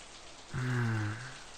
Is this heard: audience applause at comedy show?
no